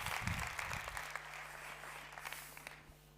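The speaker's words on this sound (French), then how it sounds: "je vous propose, mesdames et messieurs, d'applaudir bien fort Michel Bisson pour son premier discours." Audience applause at a colloquium marking the 50th anniversary of EPA Sénart, dense clapping from a large crowd that starts loud and slowly thins and fades, with a low hum beneath.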